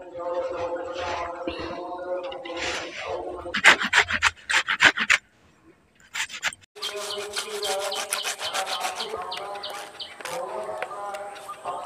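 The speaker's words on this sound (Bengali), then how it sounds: "আমটা এখন গ্রেট করা হয়ে গেল" Raw green mango is rubbed across a grater in quick rhythmic rasping strokes, close by, with short pauses between runs and a voice heard in places alongside the scraping.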